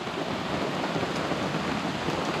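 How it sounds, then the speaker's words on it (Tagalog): Heavy rain with thunder outdoors near a cave in Cavinti, a dense, loud, continuous hiss of falling water with a low rumble underneath and no voices. "Ulan. Inabot kami ng ulan."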